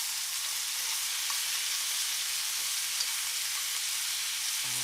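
Veal shanks browning in a pot, giving a loud, steady, close hiss of frying fat that runs unbroken from start to finish with no voices.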